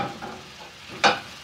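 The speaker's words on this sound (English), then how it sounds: "keep frying it" Tomatoes fry in a pan with onions and ginger garlic paste for a vegetable kurma, a soft steady sizzle with a sharp stirring scrape near the end, close by and with no talk.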